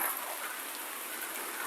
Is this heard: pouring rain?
yes